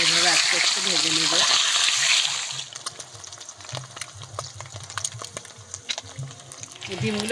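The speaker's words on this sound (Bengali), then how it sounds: "এভাবে আস্তে আস্তে ভেজে নেব।" Eggs frying slowly in hot mustard oil in a kadai. A loud, steady sizzle for about two seconds settles into a softer crackle with scattered sharp pops and clicks.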